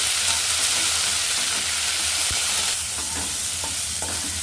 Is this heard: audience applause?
no